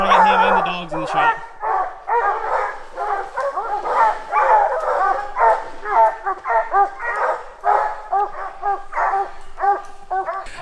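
Several bear-training hounds bark, bay and yip in a rapid, overlapping chorus, loud and close throughout.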